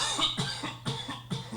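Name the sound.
cough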